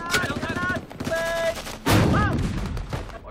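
Sustained mortar and small arms fire in a Vietnam combat setting: loud cracks and booming bursts of gunfire, with radio-like tonal voice fragments between them.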